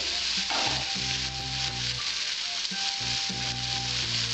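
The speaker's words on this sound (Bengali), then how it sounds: "আমি উচ্ছেগুলো ভেজে নেবো সুন্দর করে।" Bitter gourd (uchhe) pieces, seasoned with salt and turmeric, fry in a pan with a steady, close sizzle and occasional stirring scrapes throughout.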